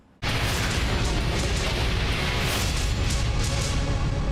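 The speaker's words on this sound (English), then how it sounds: "Do you guys want to see the best miniature explosions you've ever seen?" A sudden miniature-effects explosion in a film (Terminator Salvation) erupts after a brief quiet moment, followed by a sustained roaring rumble that stays loud and dense to the end.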